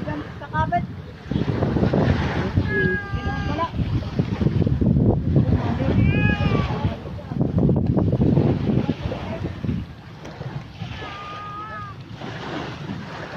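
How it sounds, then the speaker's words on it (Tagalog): Strong waves and gusting wind at sea recorded from a small fishing boat in rough water, a steady loud wash of surf and wind buffeting the microphone throughout, with people talking over it. "Malakas na maalon na."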